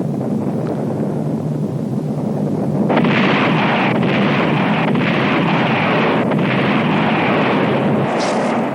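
An American Plowshare nuclear test shot erupts into a loud, sustained broadband roar that swells abruptly after a rumbling lead-in and keeps churning with gusty, wind-like bursts to the end.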